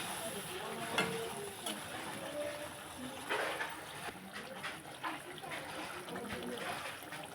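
Mustard paste is being stirred slowly into a fish curry of hilsa and prawns in a pan, with soft, wet scraping and a gentle simmering sizzle throughout and no talking.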